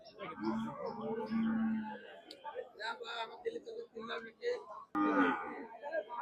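Cows moo amid a crowd of people chatting at Rustampur cattle market in Bagha, Rajshahi, low drawn-out calls rising through the busy market chatter.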